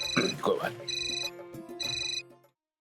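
A telephone rings with a bright electronic ringtone in two bursts in an indoor TV drama scene, while a voice talks over the first part.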